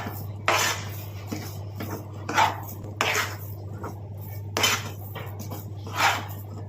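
A spoon stirs and scrapes Bombay rava sweet around a pan, producing about six loud, separate metallic scrapes and clanks in an uneven rhythm over a low steady hum.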